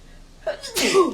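A single sharp sneeze bursts out close by against a quiet room.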